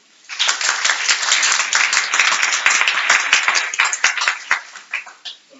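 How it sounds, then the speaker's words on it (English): A crowd applauds loudly at a law school symposium, dense clapping that swells then thins out into a few scattered claps. "So a round of applause for the dean."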